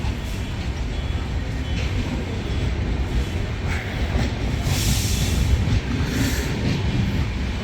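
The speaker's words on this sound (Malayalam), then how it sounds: "അതെ ട്രെയിൻ വിട്ടു പോകുന്നു" A passenger train pulls away from a station platform in Kerala, a steady loud rumble of wheels and carriage noise that swells slightly toward the end, with no talk over it.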